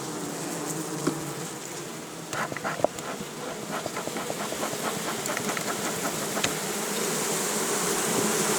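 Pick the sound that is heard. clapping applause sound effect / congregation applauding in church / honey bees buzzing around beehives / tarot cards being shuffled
honey bees buzzing around beehives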